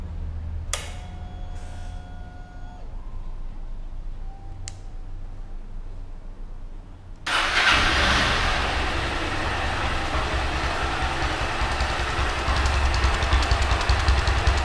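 A motorcycle with a washer fitted in its exhaust starts partway through after a quiet stretch with faint tones. It then runs on loud and close with a steady, rough idle.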